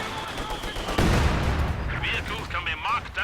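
120mm mortar in Company of Heroes 2, a heavy thump with rumbling blast around the middle amid battlefield gunfire, while voices speak over the later part.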